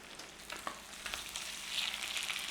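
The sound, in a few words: pork loin steaks searing in a pan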